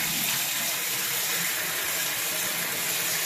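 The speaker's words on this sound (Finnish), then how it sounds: "Laitetaan vähän vettä kiehumaan." Water gushing from a kitchen tap into a kettle or pot in a small kitchenette, filling for evening tea: a steady, close, hissing stream with no pauses and no talk.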